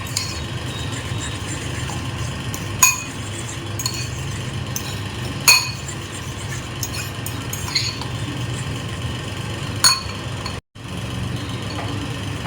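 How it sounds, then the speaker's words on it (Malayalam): Eggs being mixed into oats in a bowl for an oats omelette, a utensil clinking against the bowl in a few sharp taps over a steady low background hum, with no talk. "2 eggs അത് ഇതിനകത്തോട്ട് ആഡ് ചെയ്യുക. അത് ഇതുമായിട്ട് നന്നായിട്ട് മിക്സ് ചെയ്യുക."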